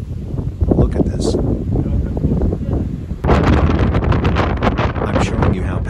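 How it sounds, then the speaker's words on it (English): Strong wind buffeting the microphone at a scenic lookout in Sasebo, loud continuous roaring gusts that intensify partway through, close and overwhelming. "I'm showing you how powerful the wind is."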